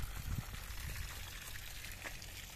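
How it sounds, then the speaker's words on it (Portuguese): A small trickle of water runs by a farm dam, a faint continuous dribbling splash heard alone at close range. "Puxinho d'água aqui."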